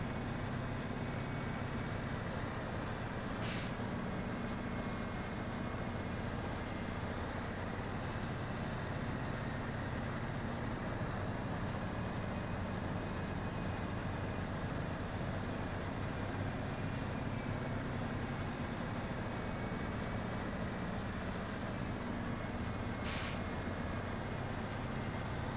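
A truck grinds along in the SnowRunner driving game under a steady, low engine drone that runs throughout, broken twice by short, sharp hisses of the air brakes.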